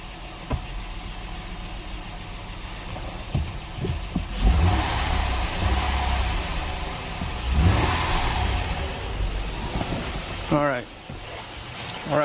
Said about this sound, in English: we got the engine start